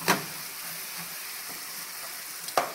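Onions sauté in extra virgin olive oil in a pan for turkey chili, giving a steady soft sizzle with a few sharp clicks and taps of utensils against the pan.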